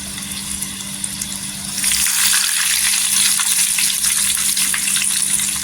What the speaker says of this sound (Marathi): तेल इथे गरम झालेलं आहे तर इथे मी लसूण सोलून घेतलेली टाकायची याच्यामध्ये छान गोल्डन झाली पाहिजे